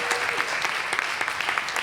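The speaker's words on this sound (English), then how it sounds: "Please give a second round of applause to Mike and Sean for their amazing work." Audience applause at a small business mayoral forum in Atlanta, steady crowd clapping filling the room at moderate loudness, brief and continuous.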